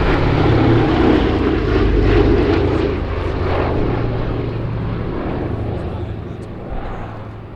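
A steady, droning roar of B-17 Flying Fortress propeller engines at an air show, loud and continuous, slowly easing slightly in level.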